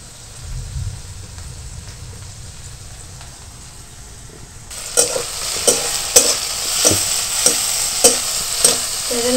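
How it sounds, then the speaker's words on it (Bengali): Potatoes are being stirred and fried in a pan. A quiet stretch gives way, about halfway through, to loud steady sizzling with regular scraping strokes of the spatula against the pan. "সেই জন্য নাড়াচাড়া করে আমি একটু ভেজে নেব।"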